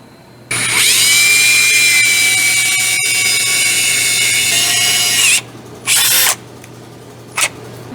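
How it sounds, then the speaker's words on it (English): A power drill whines loudly at a steady pitch for several seconds while drilling a hole in a thin door, then stops; two short bursts of drilling follow after a pause. "let's drill a hole in this little fella right here"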